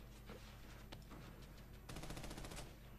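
Rapid automatic gunfire in the third-person shooter Army of Two: The Devil's Cartel, a continuous burst of overlapping shots that grows louder and denser partway through, with no talk.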